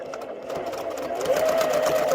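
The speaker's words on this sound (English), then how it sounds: "So I'm just going to drop that needle, drop that presser foot, adjust it, and sew." A sewing machine runs steadily while stitching strips for a quilted tablecloth, producing a close, continuous mechanical whir with a rising motor tone toward the end.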